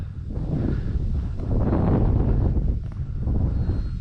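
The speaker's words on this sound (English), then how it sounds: "Yeah, that's not me, that's the wind." Gusty wind blowing across an outdoor RC flying field, buffeting the microphone in uneven swells that rise and fall over a few seconds, with no talking.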